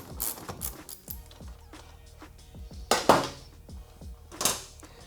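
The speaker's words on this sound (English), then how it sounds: "We can go ahead and take that nut all the way off, thereby leaving the axle completely loose." Metal clinks and ratcheting clicks from a wrench taking the axle nut off a Kawasaki Z125 motorcycle, with a few sharper metallic clanks and a scrape near the end, close and fairly quiet.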